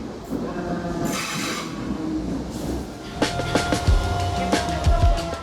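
Dublin DART commuter train running along the coast toward Howth, with a steady rolling rumble, rail squeals and a few sharp clacks of wheels over track joints, heard from inside the carriage.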